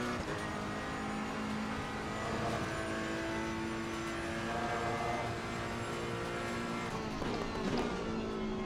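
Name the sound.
car accelerating and driving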